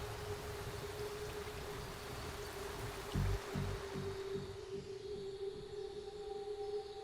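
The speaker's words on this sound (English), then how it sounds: "But as the rain clears" Steady rain falls across a river fishing spot, a constant broadband hiss with a low rumble and a brief louder patch of heavier drops midway, fairly loud and even throughout.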